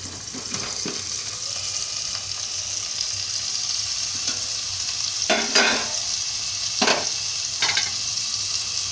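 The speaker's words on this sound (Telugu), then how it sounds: "ఒక పావు గంట 20 నిమిషాల పాటు ఇలా సిమ్లో వండుకుంటే చాలా టేస్టీగా ఉంటాయండి చిలకడ దుంపలు" Sweet potatoes cook in a pan over a low flame, giving a steady, even sizzle and bubble throughout, with a few brief louder crackles and spoon stirs near the end.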